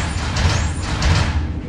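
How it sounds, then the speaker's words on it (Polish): Bus doors open in a Roblox game with a pneumatic hiss and a sliding whoosh over a low engine rumble. "Otwieramy wszystkie drzwi."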